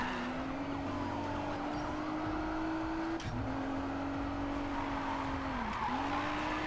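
Cars racing and skidding in the video game Need for Speed Payback: a loud, steady engine drone with rising and falling pitch as the car accelerates, with brief tire squeals and skids and no talking.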